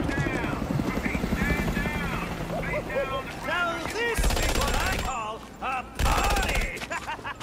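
Gunfire aimed at police in a Batman Arkham game, rapid bursts of automatic fire and shots over a whirring helicopter drone, with voices talking over the action.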